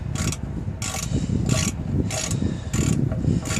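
Oil drain plug threaded back into a Ford Econoline in a parking lot oil change, a close, repeated ratcheting whir in regular bursts over a low background rumble.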